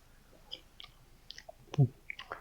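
Someone eats wild ลูกเงาะ fruit picked from a tree after birds had eaten most of it: a few close, small wet chewing and biting sounds, with one louder bite near the end and no speech.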